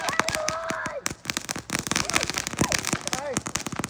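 Fireworks going off in a backyard near a fire pit, a rapid string of loud sharp crackling bangs and pops that keep bursting throughout, with voices and shouts mixed in.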